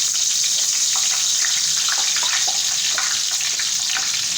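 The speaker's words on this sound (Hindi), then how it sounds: "अब यहाँ हम इसको फ्राई करेंगे जो हमने बैंगन रेडी किए हैं।" Eggplant pieces for a dry baingan masala sizzle in hot oil in a pan, a steady close crackling hiss with scattered pops running throughout, no talking.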